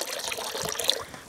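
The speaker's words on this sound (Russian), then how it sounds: "Это я сейчас буду доливать ведро воды." Water pours from a bucket into a pink garden fertilizer solution for spring strawberries, a short close gush of splashing liquid with no talking.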